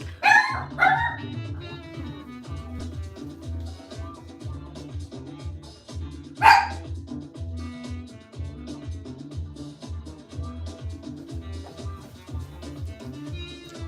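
A pet dog in a home barks at noises out in the hallway, giving a few sharp, loud barks near the start and one more mid-clip, with low background hum in between.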